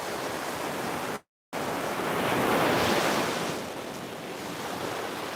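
Ocean waves break on the shore in a loud, continuous roar of surf, swelling to a fuller crash midway before settling back, mixed with some wind.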